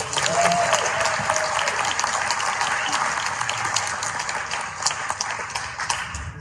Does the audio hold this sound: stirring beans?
no